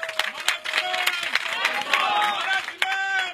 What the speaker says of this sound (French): Je demanderai qu'on puisse l'applaudir très fort.